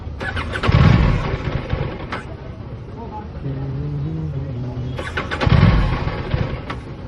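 An Aprilia RS 457 motorcycle with a fault that keeps it from idling on its own cranks and fires twice, each start a loud near burst, with a brief uneven idle between and some speech alongside.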